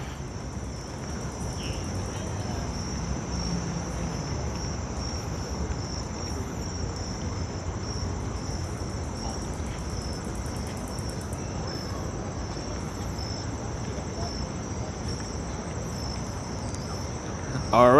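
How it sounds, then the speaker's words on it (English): Crickets chirp at night in a New York City park, a steady, continuous high trill filling the whole stretch over a low, distant city hum, with no talk. "It's gotten so quiet that we can hear the crickets."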